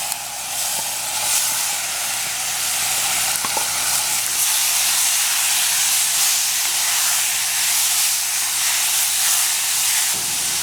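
Caribbean beef stew, Trinidad-style, sizzles and bubbles steadily in a pot, a continuous close hiss with small pops throughout, no talking.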